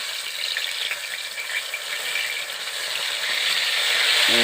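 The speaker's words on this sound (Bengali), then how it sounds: "পটলগুলো আমি উল্টে নিয়েছি ভালো করে আর এক ফিট ভালো করে ভেজে নিতে হবে" Stuffed pointed gourds with a lentil filling fry in hot oil, giving a steady, close, dense sizzle that swells slightly toward the end, with no voices.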